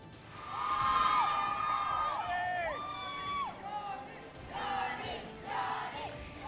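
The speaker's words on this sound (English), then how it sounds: "that is the sound of jubilant Johnny Depp fans outside the courthouse Wednesday as the verdict came in" Jubilant fans gather outside a courthouse as a trial verdict comes in, a crowd roaring and whooping with rising and falling shouts that swell and fade in waves, loud and sustained across the scene.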